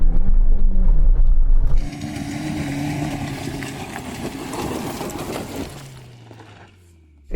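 Off-road vehicle engine, a Suzuki Jimny or Hummer H2, loud and close as it revs then drops sharply in pitch and load during a gear change before fading toward idle.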